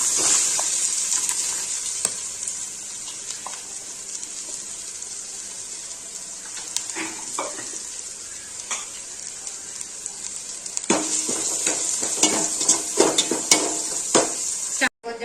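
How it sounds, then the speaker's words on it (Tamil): Chopped onions dropped into hot oil in a pan for a chicken fried rice, giving a steady broadband sizzle with scattered clinks and scrapes of stirring that grow busier toward the end. "சட்டி சூடானோன்னா எண்ணெய் ஊற்றியாச்சு இப்போ வந்து வெங்காயத்தை சாப் பண்ணி சேர்த்துக்கலாம்"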